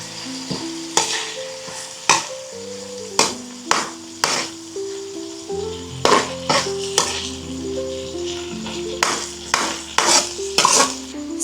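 Corned beef stirred in a cooking pan sizzles steadily while a metal utensil scrapes and clinks against the pan in repeated strokes, close and fairly loud, with no talk.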